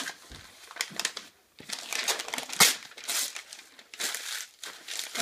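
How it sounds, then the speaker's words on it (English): Newspaper being crumpled by hand to shape a paper egg, a run of crisp, crackling crinkles in irregular bursts with brief pauses, close and fairly loud, no talk. "So you're going to crumple it a little,"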